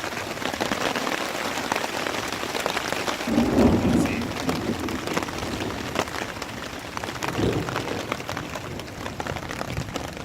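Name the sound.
rain storm with thunder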